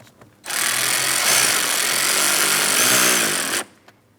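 A power tool tightens a hose clamp on the air inlet tube of a 2004-2008 Pontiac Grand Prix 3.8L V6, one steady loud buzzing run of about three seconds, close up with no talk.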